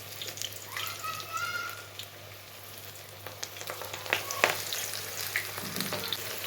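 A kebab fries in oil in a pan, a soft, steady close sizzle with light scraping and clinks of a spoon, plus a brief whistling tone near the start and no speech.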